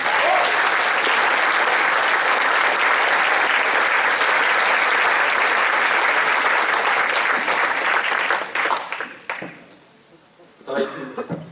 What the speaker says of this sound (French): je vous propose d'ailleurs de les réapplaudir dès maintenant